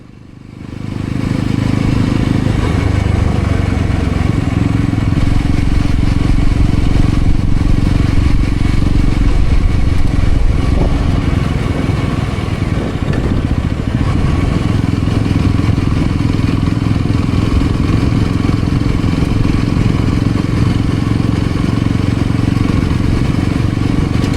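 Yezdi Roadster 2025 motorcycle ridden along a road with hairpin bends, a steady loud engine drone with wind rush holding throughout, close and continuous with no talk.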